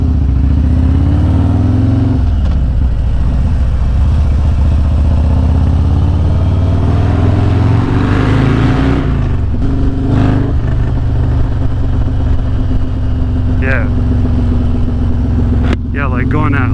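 A Harley-Davidson bagger with a Stage II cam and aftermarket exhaust pipe rumbles loudly and continuously while riding, with engine tone rising and falling, and someone talks over it at times.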